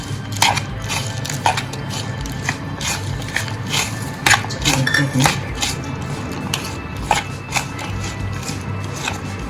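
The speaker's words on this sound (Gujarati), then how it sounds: "સારી રીતના મિક્સ કરી લેશું।" Lemon juice being stirred into a chaat masala mixture for papad cones, heard as repeated close clinks and scrapes of a spoon against a bowl in an irregular rhythm, with no talking.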